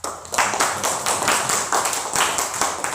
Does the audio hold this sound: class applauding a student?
yes